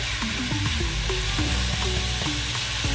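A constant, loud sizzle comes from onions frying with carrots and celery in a pan, with a faint tonal hum running beneath the crackle.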